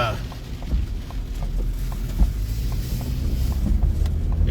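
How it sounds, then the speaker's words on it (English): Steady wind during a tornado in Creston-Afton, Iowa roars and buffets the microphone in a low, continuous rumble, with faint rhythmic knocks and a voice murmuring underneath. "mighty, mighty windy out here"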